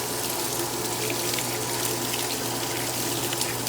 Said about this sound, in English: Now it's filling up with some warm water.